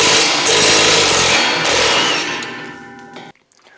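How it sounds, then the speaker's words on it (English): An impact wrench hammers a nut on a MUSKOX 26-84 snowblower during impeller fan replacement, giving a loud close continuous rattling burst of about three seconds that stops abruptly, with no voices. "Get that started on the nut."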